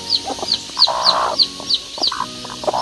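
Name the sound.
chickens clucking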